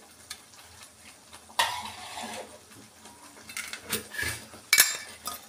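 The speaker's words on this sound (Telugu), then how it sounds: "దీన్నే వేగనిస్తాము." Bitter gourd curry fries in a pan with a soft, close sizzle broken by utensil scrapes and clinks against the pan, building to a few louder clattering stirs near the end.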